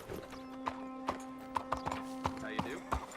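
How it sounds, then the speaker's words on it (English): Horse hooves clip-clop in an even walking rhythm in the video game Red Dead Redemption 2, close and moderately loud over a steady hum, with a brief whinny and some speech. "You got a horse? Get on it."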